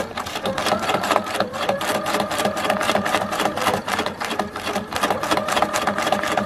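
A sewing machine free-motion stitches scraps of fabric into tags with a rapid, even mechanical chatter, running steadily up close with only brief dips in speed.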